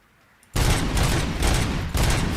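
Rapid bursts of gunfire in the RoboCop: Rogue City video game, a sudden loud barrage starting after a quiet moment and continuing in dense, pulsing volleys.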